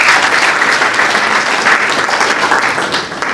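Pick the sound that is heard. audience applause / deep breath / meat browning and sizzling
audience applause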